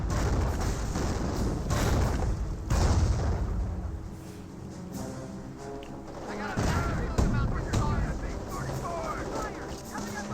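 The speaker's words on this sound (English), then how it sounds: "Here comes the Nebel Warfare barrage." A Nebelwerfer rocket artillery barrage in the video game Company of Heroes: dense, continuous rumbling booms and crackling blasts overlap throughout, with sharper bursts surging at intervals.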